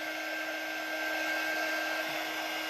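Hair dryer blowing continuously on a craft piece, a steady close-up whooshing roar with a constant motor hum and a high whine, unchanging for the whole stretch.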